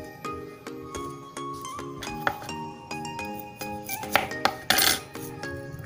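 A spoon clinks and scrapes against a bowl while mixing tuna with mayonnaise and onion, producing repeated bright metallic chinks in an irregular rhythm, close and clear, with no talking.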